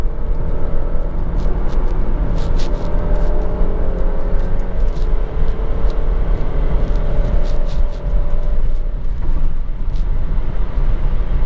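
A used, high-mileage 2018 Alfa Romeo Stelvio on a twisty back road, its engine drone and tyre roar holding steady and loud for the whole stretch with no talk over it.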